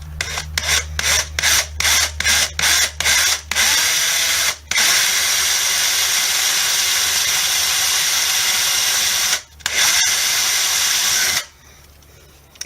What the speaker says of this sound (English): I'm just going to aim for the center and drill my hole.